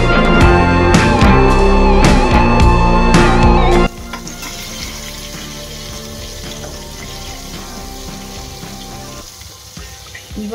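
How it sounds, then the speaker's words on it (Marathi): Large tiger prawns frying in oil in a pan, opening with loud clattering knocks and a bright crackle, then settling into a steady, quieter sizzle that runs on alone. "कोळंबी फ्राय"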